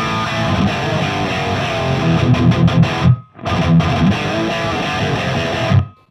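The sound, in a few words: distorted electric guitar through amp simulator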